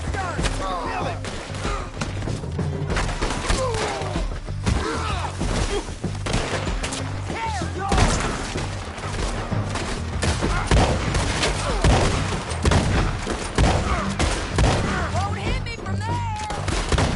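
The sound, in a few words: gunfire in a shootout in Red Dead Redemption 2 (video game)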